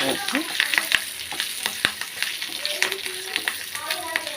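Hot oil sizzles steadily as a spice tempering fries for chutney, with sharp crackles and pops scattered throughout, close by.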